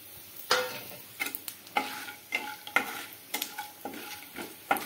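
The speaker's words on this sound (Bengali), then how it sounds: "জিরেটা ফুটে উঠলে দিয়ে দিচ্ছি গোটা গরম মশলাগুলো।" Cumin seeds and whole garam masala frying in hot oil, with a steady sizzle broken by regular scraping and clinking of a spoon stirring the pan, close and crisp.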